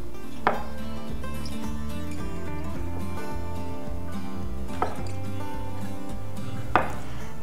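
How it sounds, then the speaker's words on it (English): A knife chops fruit into big chunks on a board, three sharp distinct chops spaced several seconds apart over a low background hum. "I'm going to chop up my fruits"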